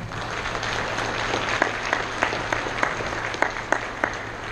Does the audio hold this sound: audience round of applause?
yes